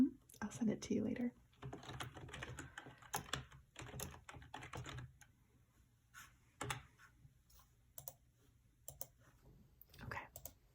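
Close, quiet computer keyboard typing in an ASMR roleplay interview: dense clattering bursts of keystrokes early on, thinning to scattered soft taps and clicks.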